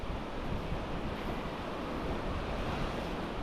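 Sea waves churn along a coast after a typhoon, giving a dense, continuous roar of surf mixed with wind rumble, steady and fairly faint, with no voices.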